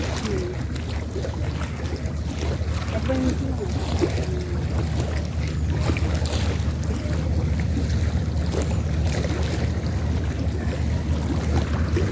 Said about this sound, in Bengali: এটা ট্রলার আইতাছে।